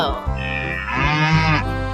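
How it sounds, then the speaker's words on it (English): A buffalo lows in one sustained, resonant moo with a rising then falling pitch, loud and close, heard alone over about two seconds. "Buffalo."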